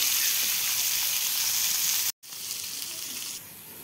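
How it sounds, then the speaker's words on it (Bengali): Figs sizzle and fry in hot oil with cumin, salt and turmeric: a loud, steady, close crackling hiss that cuts out for a moment and then carries on, with no talk. "আমার ডম্বল ভাজা হয়ে গেছে"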